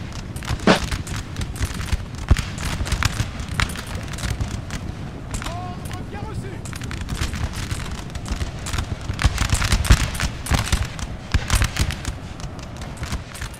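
Musket volley fire from Russian infantry in a Napoleon Total War multiplayer battle, a dense crackle of many scattered gunshots with sharp individual reports over a rumbling battlefield background, continuous with distant and near shots mixed.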